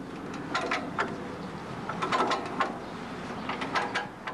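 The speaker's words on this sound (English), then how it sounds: "you adjust it by moving this lever here" Lever on an Aitchison Seedmatic seed drill being shifted, a run of close mechanical clicks and ratcheting clunks in several short bursts over a few seconds.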